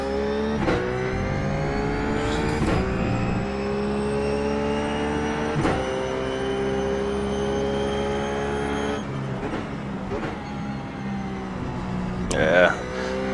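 Race car engine in the iRacing sim at Motegi at night, holding a steady high-revving drone in third gear with brief shift dips, loud and continuous throughout, with a voice talking over it.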